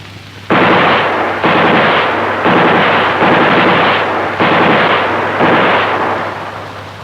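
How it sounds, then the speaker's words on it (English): Six long, loud bursts of harsh, rapid-fire rattling from a 1960s Saab pneumatic machine gun sound simulator, each lasting about a second with short gaps between, close and steady over a low hum. "the machine gun simulator, which has pneumatic sound generation"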